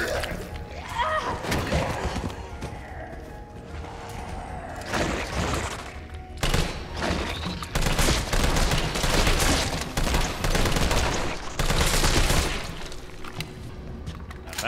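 Bursts of gunfire from the Resident Evil 3 video game, loud repeated shots and thuds clustered through the stretch, with a voice talking over parts of it.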